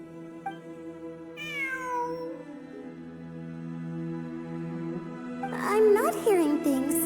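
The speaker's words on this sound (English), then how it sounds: "I'm not hearing things. It really is a cat." A cat meows in the video game Genshin Impact, one clear drawn-out meow near the start and a second run of meows near the end, over a steady game soundtrack with a brief chime.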